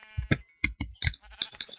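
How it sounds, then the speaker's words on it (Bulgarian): Several short bleats from blocky Minecraft sheep in a survival game, coming in quick uneven bursts with brief gaps between them and no talk. "Майнкрафт е решил, че трябва да има овце."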